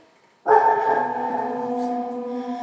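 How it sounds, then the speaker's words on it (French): A stage sound effect of a pack of dogs barking and howling starts abruptly after a short silence, then holds as a loud, sustained, layered chorus of canine voices for the rest of the clip, with no talk over it. "J'entends les chiens aboyer."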